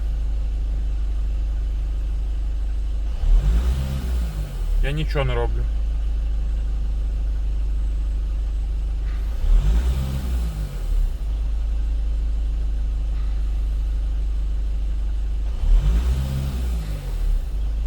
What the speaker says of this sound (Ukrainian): Чую, машина газує сама.